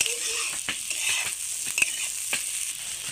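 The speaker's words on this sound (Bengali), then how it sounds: "এভাবে আমি ঘেটে ঘেটে একদম সুন্দর করে ভেজে নেব" Small potatoes frying and being stirred in a pan with tita guti, a steady broadband sizzle broken by several short scraping stir strokes, close and continuous with no talk.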